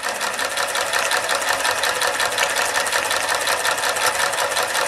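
A German Doll 365 toy steam engine runs on live steam with its governor spinning. It makes a continuous, rapid mechanical clatter at an even pace, close and fairly loud, with no voices.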